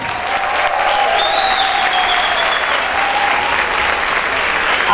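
A concert crowd in a Florence venue gives loud, sustained applause for the rock band, dense clapping with whistles and cheers rising over it, close and even throughout.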